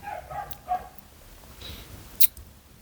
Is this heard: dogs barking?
yes